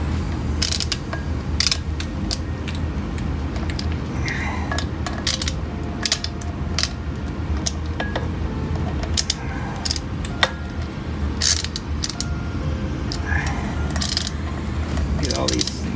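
A ratchet tightens clutch pressure plate bolts on a Hyundai Veloster Turbo, giving quick bursts of metallic clicking and clinks over a constant low rumbling background in a garage.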